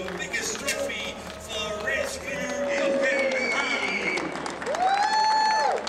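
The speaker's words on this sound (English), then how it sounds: "Applause for the top three drivers." A crowd applauds steadily for the top three drivers at a European truck racing podium at Zolder, while voices talk over it, with a few whistles and calls rising above the clapping.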